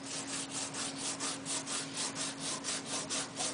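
Black crayon rubs back and forth across paper in quick, even strokes, a faint close scratchy rasp repeating steadily with no voices.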